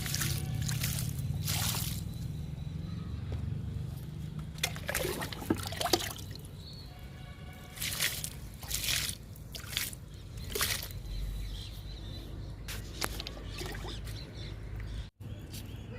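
Sour buttermilk poured onto eggplant plants outdoors, trickling and dribbling liquid in short splashes over steady outdoor background noise, with faint birds.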